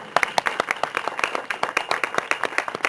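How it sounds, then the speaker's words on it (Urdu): A church congregation claps loudly during a sermon on baptism, a dense, steady burst of applause with sharp individual claps throughout, close and lively, with no talk over it. "یسوع کے جلال کے لیے زوردار تالیاں بجا دیں."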